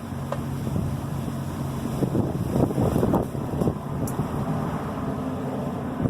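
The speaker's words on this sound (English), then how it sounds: "the wind is probably not helping" Gusty wind buffets the microphone outdoors beside hot concrete, a continuous low rumbling roar with brief rising surges, steady and close throughout.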